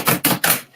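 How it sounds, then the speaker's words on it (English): A deck of cards being shuffled at close range, three quick papery riffling bursts in a row with a short pause between each. "one last shuffle"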